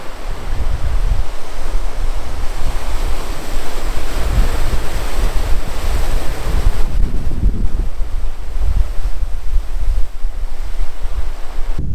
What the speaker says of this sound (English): waves crash on the water and gives me some motion